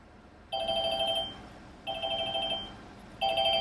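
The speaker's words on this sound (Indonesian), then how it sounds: "Dan ini suara sambungnya juga ada." A telephone ringback tone on a public payphone in Japan repeats three times, each burr lasting under a second with short gaps, clear and steady against a quiet background.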